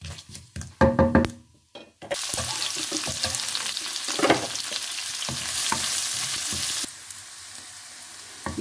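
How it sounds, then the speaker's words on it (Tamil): Onions tipped into hot oil with fennel, cumin and mustard seeds for a Tamil mushroom curry: a few clanks and knocks, then a loud, steady close sizzle with occasional stirring scrapes. "நாங்கள் இதுக்குள்ள வெங்காயத்தை சேர்ப்போம்."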